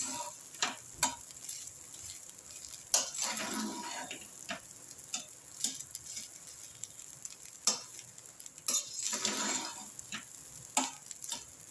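Carrot rice is stirred in a pan with roasted, ground coriander seed, cumin seed and chilli powder, giving faint soft sizzling under irregular spoon scrapes and taps against the pan.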